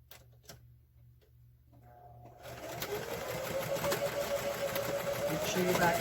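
A sewing machine back stitches a fabric drawstring bag, starting up after a quiet moment and running steadily with a rapid, close whirring rhythm that builds in loudness; a voice talks briefly early on.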